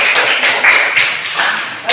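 A classroom group at a university session is applauded with a dense patter of clapping hands, close and fairly loud, lasting a couple of seconds.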